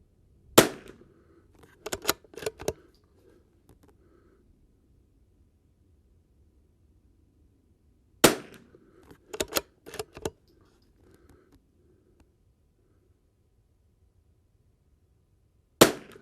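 Christensen Arms Ranger 22 rifle firing subsonic .22 rounds outdoors: three clusters of sharp, fairly quiet cracks, one shot and then a rapid string of three or four, repeated after a long pause, with a final shot at the end.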